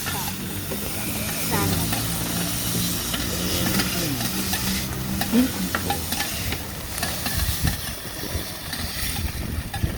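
Thai oyster omelette (hoi tod) frying at a market stall, with a steady loud sizzle and hiss, stirring and scraping under busy market noise and a speaking voice.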